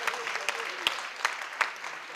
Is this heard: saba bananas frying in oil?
no